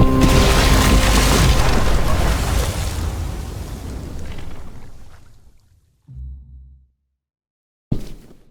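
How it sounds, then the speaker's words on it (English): A bomb blows up in The Walking Dead video game: a huge close boom with a deep rumble that slowly fades over several seconds, then a short low thud and a final sharp hit after a brief silence. "Shit, the bomb!"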